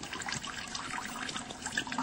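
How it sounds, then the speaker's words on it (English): Running water is recorded close to a microphone, a steady splashing, gurgling stream heard alone and at moderate loudness. "You can hear this water running."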